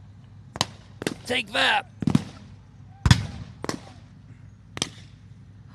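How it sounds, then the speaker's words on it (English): World War II-era tank at a museum tank weekend firing smoke rounds, several sharp booming reports spaced irregularly, fairly close, with a brief whooshing burst between them and someone speaking briefly. "Flinging a few smoke rounds."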